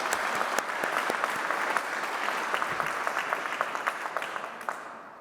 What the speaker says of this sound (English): a massive round of applause for everyone who's come today for the breakout session